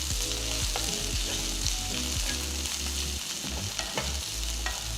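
Sambar onions, green chillies and ginger sizzle loudly and continuously in a hot pan, with occasional stirring scrapes heard close up.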